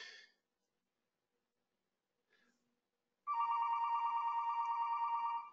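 After a short breathy noise and a stretch of near silence, a telephone starts ringing with a steady trilling bell that carries on to the end, clear and close, with no voices.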